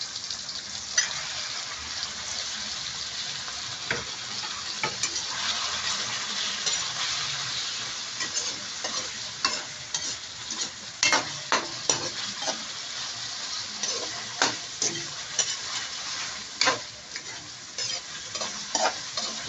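Meat sizzles loudly in a pan for pinakbet with tomatoes, a steady frying hiss broken by clinks and scrapes of stirring, close and continuous with no one talking.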